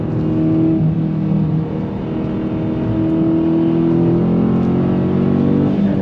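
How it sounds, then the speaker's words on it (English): A Dodge Challenger Scat Pack's V8 blips and revs through a heel-toe downshift on a drive, a loud close engine drone with several rising and falling pitch swells and no talking. "Heel toe downshift."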